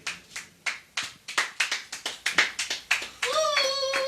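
A church congregation claps together in an uneven, steady rhythm of about a dozen sharp claps, close and lively, before a sustained tone rises at the end.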